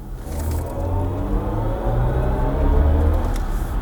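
A BMW i4 M50 electric car drives at low speed and then accelerates, producing a steady low synthetic hum and whir with layered tones that rise slightly, heard loud from inside the cabin.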